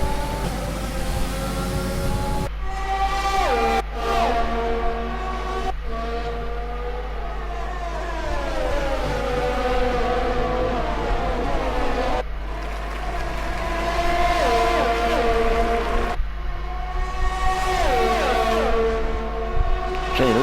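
Formula 1 car engines at the Italian Grand Prix in F1 2020 scream by one after another, with rising and falling pitch as each car shifts gears, loud and continuous.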